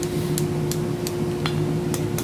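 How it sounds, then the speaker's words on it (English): Blacksmith hand-hammering hot iron into a bean end scroll, a series of sharp metallic strikes spaced irregularly about every half second over a steady hum. "So now we're going to just continue to hammer this right on up, give ourselves our nice little curvature here."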